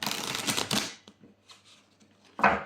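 Oracle cards being shuffled and drawn by hand: a close, rapid riffling burst, then quiet soft card handling and a sharp snap of another shuffle at the end.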